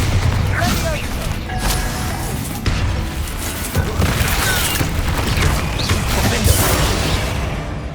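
A Bombarda spell explosion in the game Hogwarts Legacy, deep booms and crashing blasts with rumbling debris rolling through, loud and close amid other game combat noise, with a voice speaking over it.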